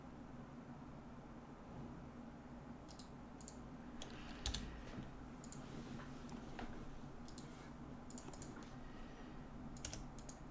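Faint computer keyboard typing during an online Magic: The Gathering Modern match, with scattered key clicks and a few louder taps over a quiet background hum and no talk.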